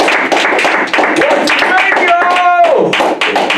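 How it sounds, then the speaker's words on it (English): A crowd claps for a round of applause at a radio mix show, with quick dense hand claps running throughout while voices and tonal sounds overlap in the middle. "Let's give a round of applause and clap."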